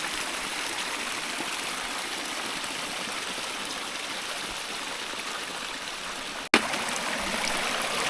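Water from a stream rushes steadily nearby at a river crossing on a Mount Hale hike, a continuous close hiss with one brief sharp click near the end.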